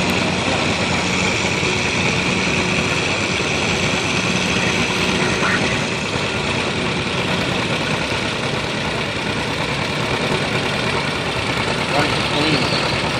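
A John Deere A tractor engine idles continuously at a county fair tractor pull with a dense, even rumble, loud and close throughout, with faint voices mixed in underneath.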